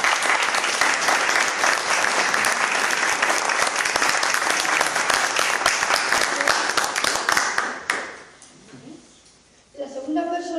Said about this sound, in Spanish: sería muy importante hacerlo con un fuerte aplauso